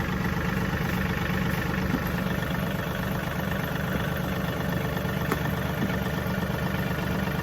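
A tractor engine idles at a steady, unbroken rumble with an even mechanical vibration, close by and constant throughout, no voices.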